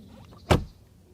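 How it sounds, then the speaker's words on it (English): A single solid thud of an Audi A8 D2 door shutting, one short, loud, deep closing sound standing alone against a quiet background. "And now, the door closing sound."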